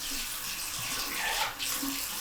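Water is poured over a runner to cool off, a steady hissing splash running continuously at moderate level.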